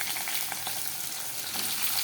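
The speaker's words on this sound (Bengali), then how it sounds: "এটাকে একটু ভাজা ভাজা করে নেবো" Boiled potatoes frying in a pan produce a soft, steady sizzle with light crackles and faint stirring sounds, heard close and fairly quiet with no talking.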